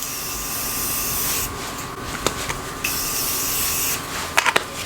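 Morphe makeup setting spray misted in a few short bursts, a close, steady airy hiss with brief pauses between sprays and small handling clicks.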